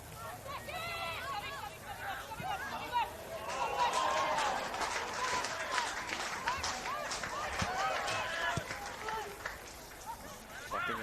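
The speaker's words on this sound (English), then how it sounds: "Clapping in the background." Spectators clap at an under-20s NPL men's football match between Western Sydney Wanderers and SD Raiders, the scattered applause running beneath steady commentary and crowd babble.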